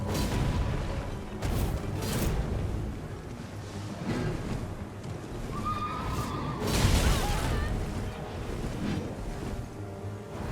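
A horse in the video game Elden Ring neighs once in the middle of a noisy battle, a brief whinny riding over constant rumbling game effects and wind-like ambience.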